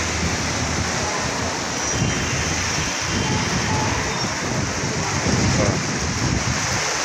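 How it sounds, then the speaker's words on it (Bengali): Rain pours down in Dhaka while the sun shines, a dense, continuous hiss of drops on surfaces that stays steady and fairly loud throughout, with no voices. "রোদের ভিতর বৃষ্টির ছোঁয়া"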